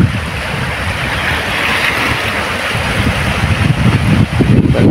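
Loud ocean surf roars and crashes continuously against the rocks at Punta Taytay Daga, with rushing water and wind noise throughout.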